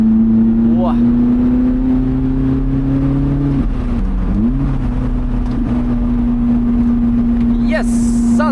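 Car driving fast on a winding Swiss mountain road, a loud steady engine drone with pitch shifts as it works through a curve, with a person talking over it.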